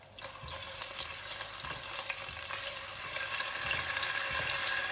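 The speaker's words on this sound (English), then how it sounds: "now I'm adding in our ginger garlic paste. You need to fry this for around a few seconds only." Ginger garlic paste frying in a hot pan, a bright, continuous sizzle with faint stirring scrapes, close and steady throughout.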